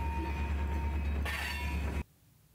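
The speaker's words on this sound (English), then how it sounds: "got back on the train and started up and went on his way eastbound back towards La Harpe" A Keokuk Junction Railway GP-20 diesel locomotive pulls away eastbound, its engine throbbing with a loud low drone and a brief hiss of air. The sound then cuts off abruptly into near silence.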